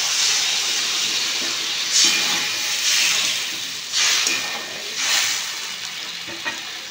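Vegetables cooking with a little water over low heat for a chal potol (pointed gourd) dish, giving a soft continuous hiss of steam and sizzle with a few louder swells as the pan is stirred.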